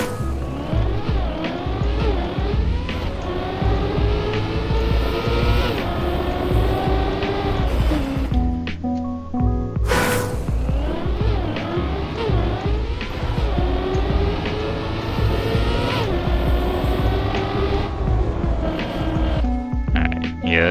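Car engine in the racing game Trackmania, drifting through a slow track, a loud sustained whine with rising and falling revs and a brief break midway, alone without talk.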